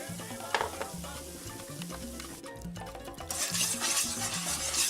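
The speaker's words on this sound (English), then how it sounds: "this is about 15 minutes in of stirring the roux" Roux for chicken sausage and shrimp gumbo stirred in a pot, a steady rhythmic scraping of a utensil against the pot bottom with a soft sizzle that grows louder toward the end.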